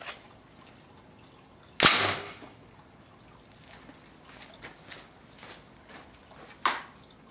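Homemade air cannon firing a marshmallow at a cabinet about 20 feet away: one sharp, loud pneumatic pop with a brief hiss, followed by faint rustling and a softer click later on.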